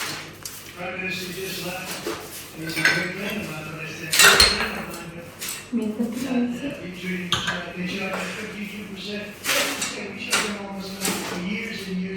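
Pots and kitchen utensils stacked onto pantry shelves, with scattered metallic clanks and knocks and one sharp clatter, heard beneath someone talking.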